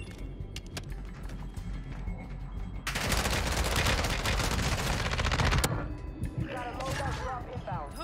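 Rapid automatic gunfire in a Warzone match, including an ISO 45 SMG, with loud dense bursts in the middle stretch and scattered shots around them, heard under a player's talk.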